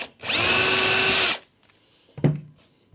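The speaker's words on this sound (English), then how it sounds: "Drill my door." A power drill bores holes in a Cooke & Lewis lay-on cabinet door: a loud, steady whirring burst of just over a second, then quiet and a single sharp knock near the end.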